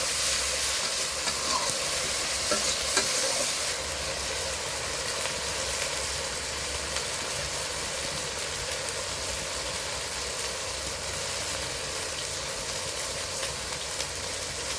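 Chicken with ground turmeric, chili, cumin, coriander and garam masala sizzles and is stirred in a pot over a wood-fired clay stove, a steady close frying hiss with scraping stirs, louder in the first few seconds.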